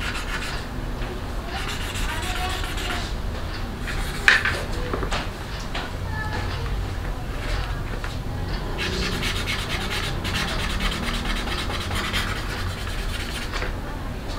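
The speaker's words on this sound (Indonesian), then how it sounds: "Sekarang kita gosok sambil kita cari di bagian mana yang masih ada bekas goresan-goresannya" Steady hand scrubbing of a motorcycle helmet shell to rub out scratches, a continuous close rubbing with one brief sharp knock near the middle, running unbroken throughout.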